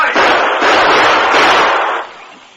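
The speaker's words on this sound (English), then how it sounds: "I'm going to fire and see what happens." In a radio drama, gunshots are fired at a bridge as a dense, loud burst of rapid cracking reports that fills most of the moment, then fades away.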